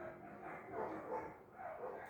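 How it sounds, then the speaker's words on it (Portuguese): A pack of dogs barking in a jungle setting, distant overlapping barks and yips blended into a dense, faint background chorus. "uma cachorrada latindo"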